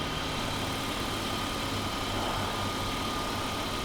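A BMW E34 engine with 182,000 miles idles quietly and steadily with no lifter tick, a smooth constant hum held at an even level throughout with no talking.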